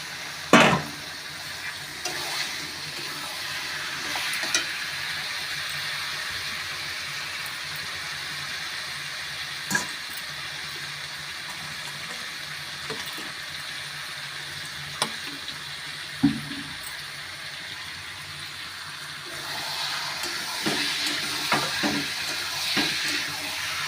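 Chicken marinated in mustard oil and turmeric fries in a pan with a continuous soft sizzling hiss, marked by occasional clinks and stirring knocks, and the sizzle swells slightly toward the end.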